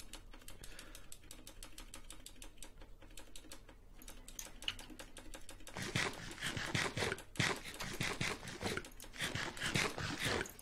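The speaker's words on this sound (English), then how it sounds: "I'm just jamming the keyboard" Computer keyboard keys mashed rapidly in dense, continuous bursts of clicking, growing louder and busier partway through, close and without talk, during a Skyfactory 3 Minecraft session.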